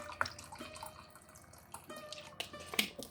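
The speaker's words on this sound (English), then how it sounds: "and just keep adding cold water" Cold water trickling and splashing into a basin of hot soapy water, faint dripping and small pours close by with a few brief louder splashes.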